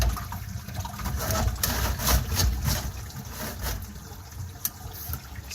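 Water drains and gurgles down a cleared garbage disposal, a close churning rush with small splashes and one sharp knock near the end.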